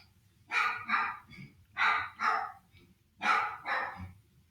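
Dogs bark indoors, three pairs of sharp, fairly loud barks in quick succession, with brief quiet gaps between them.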